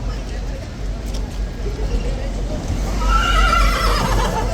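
A horse at Horse Guards, surrounded by tourists, gives a rising whinny near the end over a steady outdoor bustle with crowd murmur.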